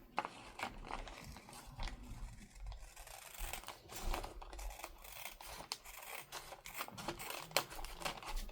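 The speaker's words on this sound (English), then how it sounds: "we're going to go around and trim off the excess." Scissors trim excess paper from handmade journal toppers with close, quiet snips and rustling paper that come in an irregular rhythm.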